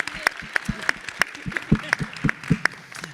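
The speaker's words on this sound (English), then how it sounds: "can I get some applause for music educators so we can hear?" Scattered, sparse claps from a session audience of music educators, individual sharp hand claps at an uneven rhythm rather than full applause, close and distinct, with faint murmuring between them.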